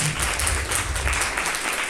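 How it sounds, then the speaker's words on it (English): Audience at a talk about fighting small hydroelectric power plants breaks into applause, a dense, even wash of clapping that fills the whole short stretch. "One applause for Chuta"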